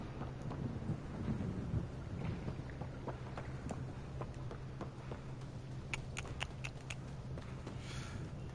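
Thunderstorm in the game Mass Effect Andromeda: a steady low rumble of rolling thunder with constant rain hiss, a few sharp crackles later on, without speech.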